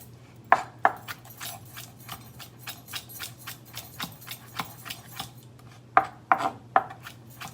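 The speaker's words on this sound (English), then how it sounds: "I'm gonna chop up a little parsley to sprinkle on top" Knife chopping fresh parsley on a cutting board, a run of quick, fairly close taps with a few sharper, louder strikes near the start and end, over a steady low kitchen hum.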